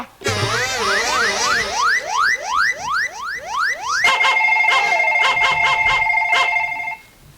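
A phone ringtone sounds during a rural Bengali gajan stage drama: a loud, repeated run of rising electronic chirps gives way to a steady, pulsing electronic ring that stops abruptly near the end. No one speaks.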